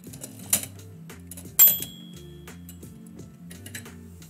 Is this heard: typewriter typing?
yes